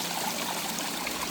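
A small garden stream runs over rocks with a steady, even trickle and splash, alone and with no talking.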